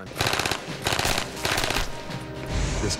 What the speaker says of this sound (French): Un pistolet mitrailleur est une arme automatique qui tire des balles de pistolet.